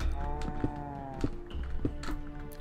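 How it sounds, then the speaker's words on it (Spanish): Low cow moos in Minecraft repeating over a steady background hum, with a few sharp clicks and taps in between. "Suenan vacas"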